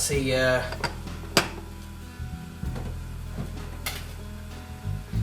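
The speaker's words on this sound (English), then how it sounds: "that's the saucepan broken. That's the top of the handle. It's come off and fallen in" A saucepan handle snaps off and drops into the pan with a sharp metallic clatter, then a second clank, set against steady background hum and a speaking voice.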